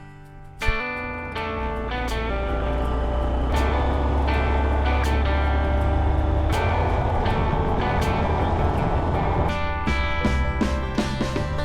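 A Honda Monkey motorcycle rides along in a steady, loud drone of engine and wind that carries on without a break, with some faint clicks on top.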